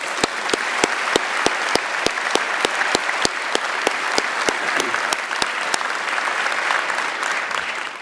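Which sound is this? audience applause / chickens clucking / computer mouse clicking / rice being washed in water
audience applause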